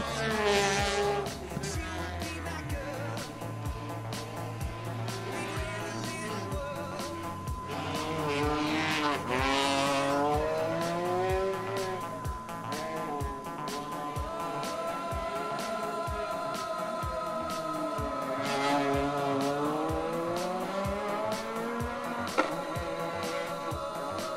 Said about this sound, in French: ça déménage avec cette Peugeot 208 R2 qui n'est plus forcément de première jeunesse